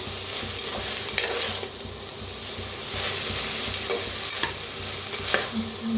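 Spices fry in hot oil for a rice dish, with a steady close sizzle and the scrape and clink of a spoon stirring the pan in irregular strokes; no one speaks.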